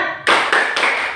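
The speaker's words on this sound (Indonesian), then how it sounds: "Tepuk semangat." A classroom of students claps a rhythmic spirit clap in unison, three sharp bursts of clapping in a steady beat, loud and close, with no talking.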